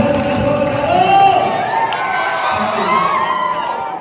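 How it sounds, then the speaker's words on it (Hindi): A crowd at a Raipur fan meetup for the film Darling Pyar Jhukta Nahi 2 cheers, whoops and shouts loudly and continuously, with an amplified voice carrying over the noise. "एक बार जोरदार ताली बजा लगाए"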